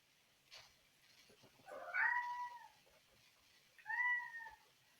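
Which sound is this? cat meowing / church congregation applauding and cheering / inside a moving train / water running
cat meowing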